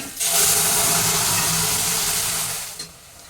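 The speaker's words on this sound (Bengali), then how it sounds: "এইবার এই আলুটাকে আমি এই ফোড়নের মধ্যে দিয়ে দিই" Boiled potatoes dropped into a hot spice tempering for a light potato curry, a sudden loud sizzling hiss that holds steadily for a few seconds before tapering off.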